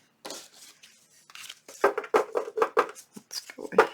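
Scissors snip through paper while junk journal ephemera is being made, a run of short crisp cuts close by, quickening into a steady rhythm of about a dozen snips with brief pauses between them.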